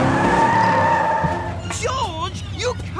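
Cartoon car spinning a donut in the jungle, engine drone giving way to squealing, wavering tire skids, with voices talking over it.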